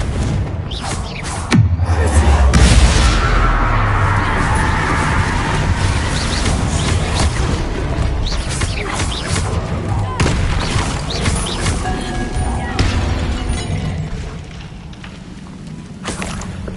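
A Confringo fire-blast spell in the game Hogwarts Legacy erupts in a loud, booming explosion, then a long, dense rumble and crackle of debris and fire that sustains for many seconds before easing slightly near the end.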